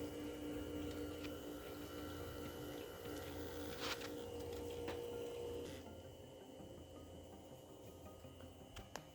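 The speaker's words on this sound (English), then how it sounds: "This pump is running" A VW 2.0 TDI EA288 fuel pump runs during system bleeding, giving a faint, steady electric hum with a tonal whine and light liquid gurgles, plus a few brief clicks and a slight drop in level partway through.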